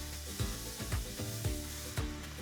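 Leeks sauteing in olive oil in a hot pan give a steady close sizzle, broken every half second or so by scraping stirs of a utensil through the pan.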